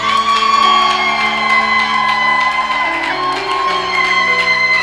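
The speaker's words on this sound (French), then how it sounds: "Ce sont des acclamations prémices." A church congregation raises loud shouts and cheers of acclamation during worship, sustained crowd voices with ringing tonal yells, close and full for the whole stretch.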